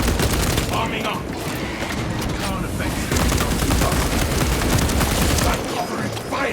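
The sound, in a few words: gunfire in the video game Warhammer 40k Space Marine 2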